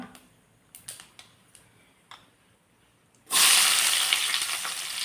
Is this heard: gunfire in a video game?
no